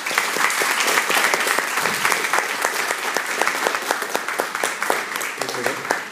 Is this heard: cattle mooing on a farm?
no